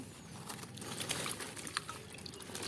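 Water is poured or released in a continuous splashing trickle with scattered drips, fairly close and steady throughout, with no voices over it.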